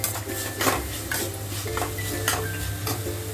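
Chicken with garam masala gets stirred in a pan for noodles, with repeated close scraping and clinking of a spoon on metal over a steady low sizzle and no talking.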